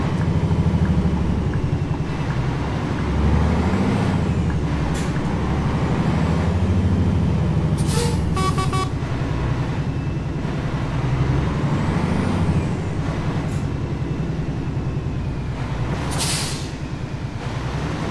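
Scania Streamline G400 truck engine in Euro Truck Simulator 2, a steady loud diesel drone throughout with brief hissing air-brake bursts near the middle and end, no talking.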